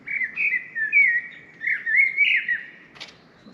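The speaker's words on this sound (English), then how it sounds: "Sounds like a blackbird." A blackbird sings a clear, warbling run of fluting phrases near a canal lock, moderately close and alone, ending with a short rustle.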